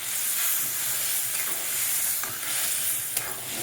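Roasted semolina for halwa is stirred in a pan, a soft steady sizzling hiss with faint scraping and a sharp clink near the end, close and fairly quiet, no speech.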